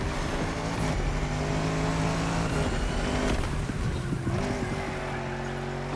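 A big SUV's engine in The Crew Motorfest hums continuously while driving, with the pitch shifting up and down and a brief tire chirp toward the end.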